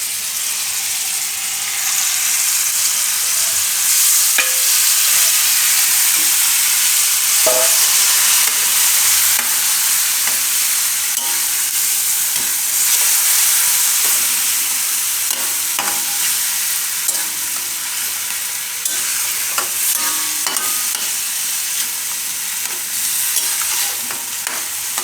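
Chopped cucumber stirred and frying in a pan for a Maharashtrian dry cucumber dish, a constant loud sizzle with repeated spatula scrapes and clacks scattered through, close up and uninterrupted by voices.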